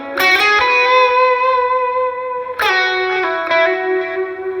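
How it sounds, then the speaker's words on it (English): Electric guitar played through distortion, delay and reverb, with sustained bright chords ringing out, a fresh attack near the start and another strong strike around the middle, echoes trailing after each; loud and close with no talking. "I've got delay and reverb and all that stuff because you have to learn how to control distortion, reverb, delay"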